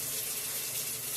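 A kitchen tap runs warm water in a steady, even rush, close and loud with no talk over it.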